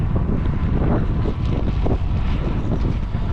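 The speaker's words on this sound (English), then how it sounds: "So the wind kind of helps you, or assists you, pushes you when you need it most." Strong wind buffets the microphone during a cycling ride through England toward Land's End, a loud continuous roar with gusting swells and no speech.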